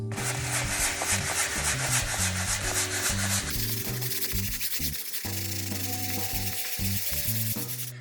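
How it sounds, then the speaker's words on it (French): Fine 150-grit sandpaper rubbing over a gesso-coated canvas to smooth out brush marks, a close, steady scratchy back-and-forth scrubbing that runs continuously with no talk. "Donc ce ponçage, en fait, ça va vraiment servir à lisser les irrégularités dues au pinceau."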